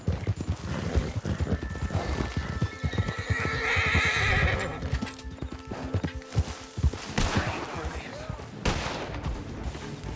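Horses in the Red Dead Redemption 2 video game whinny and clop their hooves close by, joined by bursts of gunfire and a steady game soundscape, with someone talking quietly at times.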